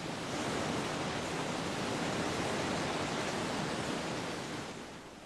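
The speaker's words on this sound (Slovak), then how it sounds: "Mohutný hlas padajúcej vody prehluší všetky zvuky lesa." Falling water of a mountain stream in a Carpathian forest roars steadily and loudly, a dense unbroken rush like a waterfall that fades slightly at the very end.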